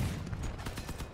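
Cannon fire in the vehicle combat game Crossout: a quick run of sharp, punchy blasts in a loose rhythm over a heavy low rumble of engine and battle noise, moderately loud and close.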